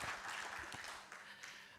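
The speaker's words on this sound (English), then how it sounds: "A big round of applause for Chairman." Audience applause for the chairman at a bank's full-year financial results announcement, a short, moderately quiet burst of clapping that fades toward the end.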